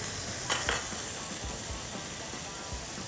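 Burger patties for Italian-style hamburgers frying on a skillet after being pressed flat, a steady hissing sizzle with a couple of brief scraping bursts and soft low knocks, moderately quiet and close.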